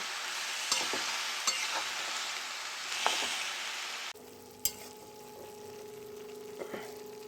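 Jujube pickle being stirred in a frying pan, a moderate sizzle with occasional spoon scrapes and clicks; the bright hiss drops abruptly midway to a quieter bubbling cook with a faint hum.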